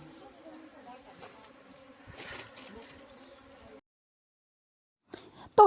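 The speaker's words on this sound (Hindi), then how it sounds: "यहाँ पे आज मेरे जेठ जी और ससुर जी मधुमक्खियों को अंदर रख रहे हैं, जो कि भाग रहे थे" Honey bees buzzing as they are placed back into a hive after swarming away, a steady insect drone with a faint rising hum that cuts off into near silence, followed by a brief loud burst at the end.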